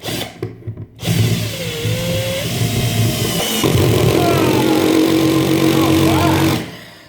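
A Parkside cordless drill, 12-volt or 20-volt PABS model, drives screws with a loud, steady motor whine that holds for several seconds, rises in pitch partway through, then stops.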